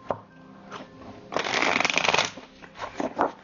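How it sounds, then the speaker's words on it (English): Tarot cards are shuffled by hand in a dense riffling burst that swells, then settles into a few softer shuffles and taps, close and alone. "One more shuffle."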